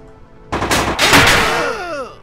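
Several sharp gunshots crack in quick succession in the Hammer & Sickle PC game, loud and close, followed by a ringing, decaying tail with no talking over it.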